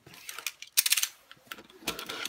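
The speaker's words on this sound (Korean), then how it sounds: "박스 방금 뜯은 겁니다" Cardboard box of a Taranis QX7 drone radio controller torn open by hand, a few quick rough ripping and crinkling bursts, close and fairly loud.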